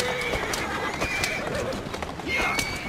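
A horse in Assassin's Creed Syndicate gives a loud, close whinny with hooves clip-clopping alongside, the neigh rising and falling in a few bursts over about three seconds.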